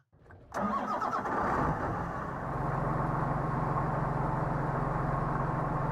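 A tractor engine cranks and catches at once, then settles into a loud, steady idle with a low throbbing rumble that continues close by, with no talk.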